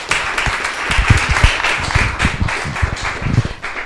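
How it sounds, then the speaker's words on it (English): Audience clapping for a volunteer at a community event, a steady wash of many hands with uneven sharp claps standing out, fairly close and sustained. "while you're clapping, just clap a little bit longer for Dan"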